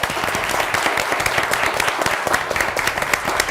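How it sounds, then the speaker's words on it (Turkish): Studio audience on a Turkish word-game quiz show applauds its contestants, a dense, steady wash of many hands clapping close and loud throughout. "Bütün yarışmacılarıma kocaman alkışlar lütfen."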